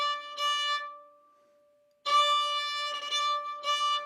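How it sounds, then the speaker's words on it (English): Fiddle playing a long sustained downstroke note that fades, then a bowed passage with quick triplet ornaments, close and fairly quiet. "practice playing a long downstroke followed by that triplet"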